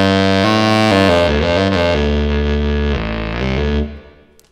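A distorted, synthetic robotic voice from a Yamaha VL70m synthesizer with heavy reverb, sustained harmonic tones shifting in pitch before fading out into a lingering echo tail.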